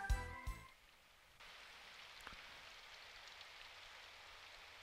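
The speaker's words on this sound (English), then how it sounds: "the first thing to reach my ears was the sound of rain spattering on the pavement" Steady rain spattering on pavement heard faintly as a soft, even hiss throughout, with a few brief louder sounds at the start and no talking.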